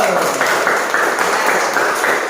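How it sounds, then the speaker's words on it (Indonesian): A classroom of students clapping together for a group's work, a loud steady burst of many hands with slight rhythmic pulses throughout. "Tepuk tangannya dulu."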